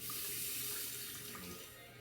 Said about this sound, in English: Now I'm gonna rinse